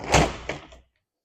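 A BackFlip X4 folding truck bed cover set onto the bed rails and unfolded, giving a loud nearby thunk followed by a second softer knock and a brief rattle, then silence.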